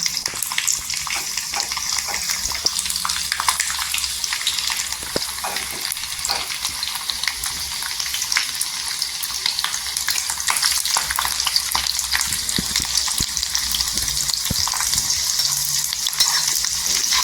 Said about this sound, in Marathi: इथे तेल गरम झालेलं आहे आपण लसूण टाकून घ्यायचे